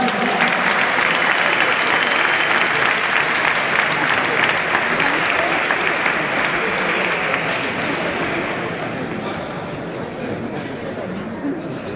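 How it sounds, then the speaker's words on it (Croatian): Sustained applause from a crowd at a New Year's spearfishing cup event in Mali Lošinj, dense and loud clapping for a sport fishing club that slowly thins and fades toward the end. "Evo ga, aplauz!"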